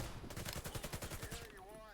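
Rapid gunfire from a gun shooting blanks in a video game, a steady burst of about a dozen sharp cracks in quick rhythm lasting over a second, then fading into whistling game effects.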